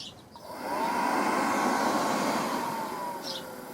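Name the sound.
Hcalory A01 diesel heater starting up on diesel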